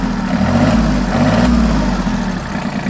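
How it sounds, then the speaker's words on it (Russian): ISEKI SIAL5 mini tractor engine running close up, a loud, steady low diesel drone that swells slightly as the throttle is raised, then eases back toward idle. "Чутко реагирует на педаль газа, обороты набирает ровно"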